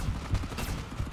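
Rapid, muffled gunfire bursts from the mobile shooter game FRAG Pro Shooter, a few punchy shots close together at moderate loudness, heard alone.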